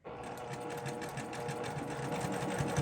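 A sewing machine stitches a quarter-inch seam on a quilt piece, humming steadily with fast, even needle chatter throughout, moderately quiet and close, with no talking over it.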